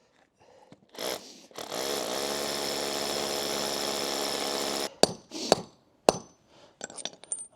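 A power drill whirs steadily for about three seconds at close range, drilling into a garden pool cover, then stops, followed by a few sharp knocks and handling clatter.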